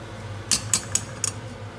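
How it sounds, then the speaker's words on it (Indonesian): A utensil stirring boiled cassava leaves in a cooking pot makes four sharp metallic clinks in quick succession over a low steady background hum. "Nah, setelah itu kita aduk-aduk."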